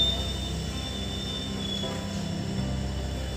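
A train being shunted into a parking line at Narsapuram railway station, a low steady rumble of rolling stock with a thin sustained wheel squeal above it, moderately distant.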